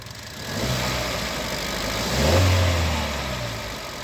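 Kia Carens engine revving up from idle, a steady mid-low hum that swells to a louder peak of revs in the middle before easing back, heard close with no talking.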